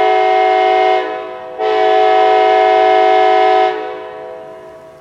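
A Kansas City Southern Railroad train passes close by, its horn blaring in two long, loud blasts with a short gap between them, then fading away.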